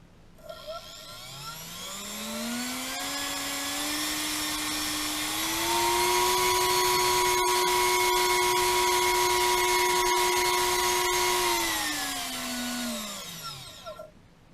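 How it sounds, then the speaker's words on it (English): A 2.5-inch H-Crew six-blade cinewhoop propeller spun up on a thrust test stand, whining as it climbs in pitch, holding a steady high-speed tone, then winding down, close and alone. "We have the H-Crew prop 6-blade cinewhoop propeller. And let's check its thrust and decibel level."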